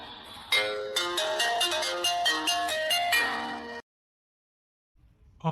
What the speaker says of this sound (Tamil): ஃபோன் போன் அடிக்கான்னு தெரியலையே